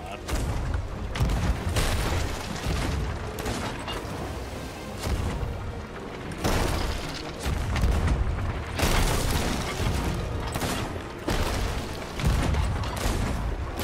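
Rapid gunfire and heavy booms from a naval pirate sailing video game, including sniper rifle shots, fill the scene in dense, loud bursts with cannon-like thuds, while players talk over the chaos.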